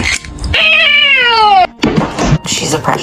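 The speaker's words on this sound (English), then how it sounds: "Oh, cat." A cat lets out one long, drawn-out meow with a falling pitch, loud and close, followed by scuffling and household noise.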